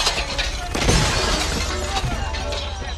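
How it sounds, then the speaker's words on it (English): Gunfire shatters the lights in a police shootout scene from the film Die Hard, a loud burst of breaking glass and crackling debris over dense action noise, with no talk. "They're shooting at the lights."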